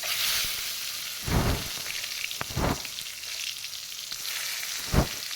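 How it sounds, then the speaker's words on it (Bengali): An egg fries in a pan with a steady bright sizzle throughout, broken by a few sharp louder pops and spatters. "ডিমটা একটু ভেজে নেব"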